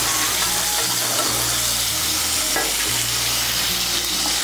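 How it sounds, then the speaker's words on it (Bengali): Tomato paste hitting hot oil for a Bengali potato and soybean curry, a loud, dense, continuous sizzle and spatter that holds steady throughout, no voices. "এর মধ্যে দিয়ে দিচ্ছি একটা মাঝারি সাইজের টমেটো বাটা"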